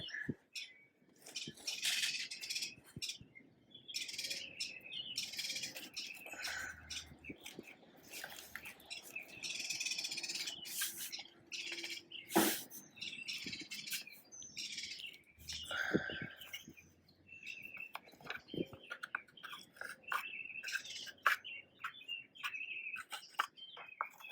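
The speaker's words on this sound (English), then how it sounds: "Sounds like I'm upsetting a bird." A bird calls in agitation near a garden greenhouse, sharp chirps and tweets coming in irregular bursts against quiet, fairly close but not loud.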